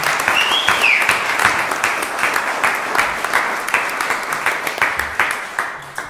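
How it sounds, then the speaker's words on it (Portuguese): Audience applause at a jazz concert, clapping for the drummer: a steady patter of many hands with sharp individual claps standing out, fairly close and sustained throughout, with a faint whistle near the start. "Eu queria pedir uma salva de palmas para o nosso baterista."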